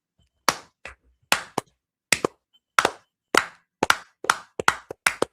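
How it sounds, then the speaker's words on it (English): Loud, slow clapping close by, about a dozen sharp hand claps spaced roughly half a second apart, some falling in quick pairs, with silence between them. "this is loud, slow clap to scare off the snowflakes"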